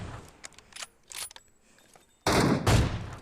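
AWM sniper rifle fire in PUBG Mobile: a single loud, sharp shot ringing out after a stretch of quieter in-game clicks and rattles.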